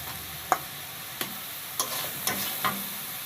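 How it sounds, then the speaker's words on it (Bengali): Fish curry with fried potatoes sizzles in a pan, a continuous frying hiss punctuated by four or five distinct clacks of a spoon stirring against the pan. "জাস্ট 1 মিনিট একটু কষায় নেওয়া হচ্ছে"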